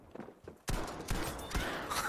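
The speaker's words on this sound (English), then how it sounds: "the shotgun is clutch for clearing buildings" Shotgun blasts ring out in the Battlefield V video game during building-clearing combat, a burst of loud, rough gunfire with several close, heavy reports after a quiet lead-in.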